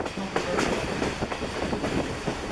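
Ride aboard the Essex Steam Train, a continuous loud rumble of rolling rail cars with rhythmic clickety-clack of wheels over track joints, close and steady throughout.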